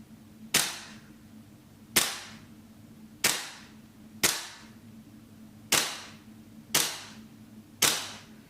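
A GM MWS gas blowback airsoft rifle fires seven single shots over a chronograph, each a sharp close crack with a brief decaying tail, spaced about a second apart with no talk.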